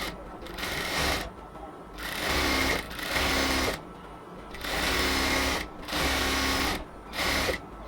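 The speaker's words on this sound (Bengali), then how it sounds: "একটা স্টিচ করার পর এবার হচ্ছে আমরা পুরোটা অংশের মধ্যে আবার আরেকটা ডাবল স্টিচ দিয়ে দিব।" A sewing machine runs a double stitch along a luxury cotton kameez in about six loud, steady bursts of stitching, each broken by a short pause, close up with no talk.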